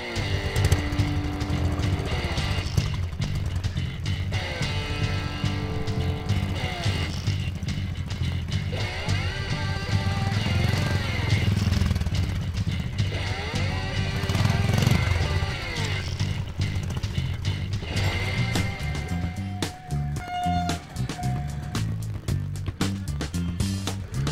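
A replica of a 1959 racing motorcycle runs continuously, its engine note rising and falling through gear changes as it passes, loud and steady with no voices over it.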